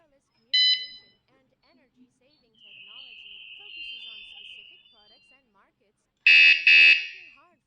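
Wireless remote vibration-sensor bicycle alarm rated at 113 dB, giving a short chirp, then a sustained warning tone, then two loud bursts close to the microphone.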